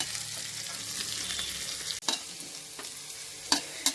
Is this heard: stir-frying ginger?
yes